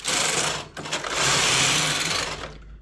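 A knitting machine carriage swept across a row as a cardigan is knitted, a close, steady mechanical whirring and rattling with a brief dip partway through, and no talking.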